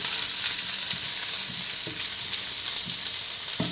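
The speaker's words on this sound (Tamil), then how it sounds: "இந்த சின்ன வெங்காயம் நல்லா வதங்கணும்." Small onions sautéing in a pan for Madurai-style thanni chutney give a steady bright sizzle, with occasional light taps of a spoon stirring, close and continuous with no voices.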